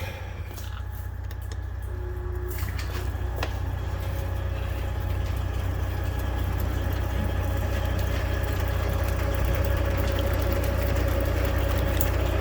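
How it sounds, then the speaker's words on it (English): A semi truck engine idles steadily in a garage with a deep, constant low rumble throughout, no talking, just the continuous drone of the motor. "Yeah, I'm idling my truck right now"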